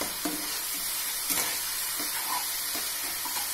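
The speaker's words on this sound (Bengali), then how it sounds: "মশলাটা একটু কষিয়ে নিচ্ছি" Spice paste frying and being stirred in a pan with jackfruit for a Bengali curry, a steady close sizzle broken by occasional scrapes of the spoon.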